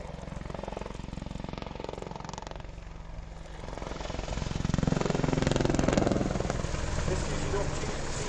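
Apache attack helicopter flying low level in a display at the Wings & Wheels 2014 air show, a loud rhythmic rotor thud and turbine roar that swells as it passes close, with a commentator talking over it.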